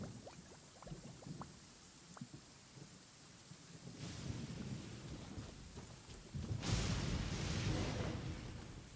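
A thunderstorm with rain in the Genshin Impact game: steady rainfall patters throughout while low rolling thunder swells twice, the second rumble louder and longer.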